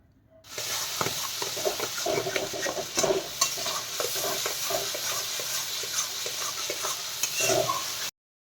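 Potatoes and ground spice paste with salt, turmeric, coriander and cumin are stirred in hot oil in a pan. The spoon scrapes and stirs continuously over a steady close sizzle, with no talking.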